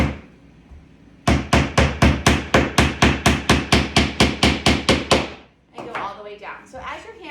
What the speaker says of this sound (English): And then hammer that all the way down.